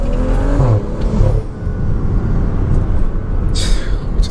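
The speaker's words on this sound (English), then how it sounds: "Just listen to this car." A BMW F30 engine rumbles low and steady, swelling slightly as it revs, with a brief higher whoosh near the end.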